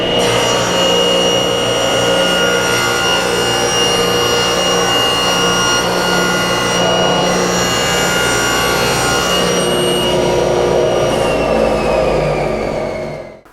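A power saw cuts a bevel through wood with a loud, steady high-pitched whine that holds for about thirteen seconds, then winds down at the end.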